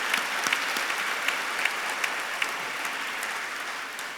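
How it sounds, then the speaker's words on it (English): Steady applause from a dinner audience honoring event sponsors, a dense even patter of many hands with a few sharper claps standing out, continuing at full strength for several seconds without any voices. "I hope you can join me in the round of applause for our sponsors"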